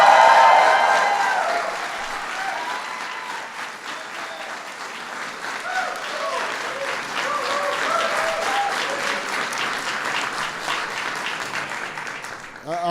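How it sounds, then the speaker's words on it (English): A large crowd applauds to welcome Speaker Nancy Pelosi, loud at first, then settling into sustained clapping with scattered cheers and voices mixed in. "I want to give a huge welcome and big round of applause for somebody who will go down as one of the greatest speakers in our history"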